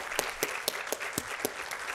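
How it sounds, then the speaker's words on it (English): A lecture audience applauds after a neuroscience talk with sparse, distinct claps spaced about a quarter second apart, fairly quiet, and no voices. "Can you all please give him another round of applause?"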